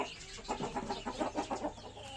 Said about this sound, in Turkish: Evet bu dışarıda gezer horozumuz.